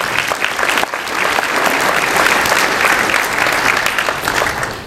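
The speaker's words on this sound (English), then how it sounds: "So a round of applause for you as well." A dinner audience at a well-attended Convention Center event breaks into sustained applause, dense and steady for about five seconds with no one speaking over it.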